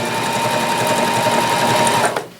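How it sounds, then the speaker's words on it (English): A Janome HD3000 sewing machine stitches a denim jean seam, a close, quick, even mechanical whir with rapid needle rhythm that runs steadily and then stops abruptly. "you can hear how quiet and smooth the machine is"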